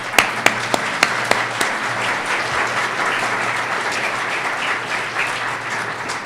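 Audience applause fills a lecture hall after a tribute to an architect, opening with a few sharp distinct claps before settling into steady, sustained clapping from a sizable crowd.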